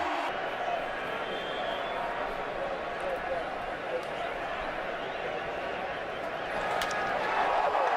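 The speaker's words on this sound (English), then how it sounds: "listen to the cheer for Cliff Lee" Stadium crowd at a 2009 NLCS Game 3 baseball game between the Dodgers and Phillies in Los Angeles, cheering for pitcher Cliff Lee: a steady, dense roar that holds loud throughout and swells slightly near the end.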